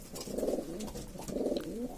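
Homing pigeons in a coop cooing softly in two low, rolling bursts, close by, with no voices.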